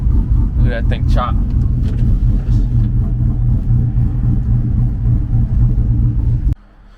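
A Chevrolet Silverado truck that was in a bad wreck idles with a heavy, choppy lope, a loud low pulsing rumble held steady close by before cutting off abruptly at the end.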